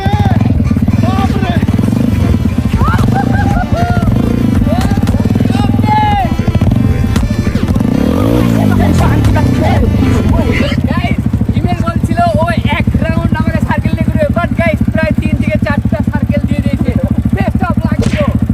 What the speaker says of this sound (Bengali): হুইলি সার্কেল করছে